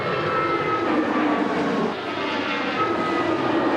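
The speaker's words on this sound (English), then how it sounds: "On a runway just yards from the recovery effort, planes come and go once more." A fixed-wing airplane roars steadily on a runway beside a crash recovery site, its engine noise loud and sustained as planes take off and land.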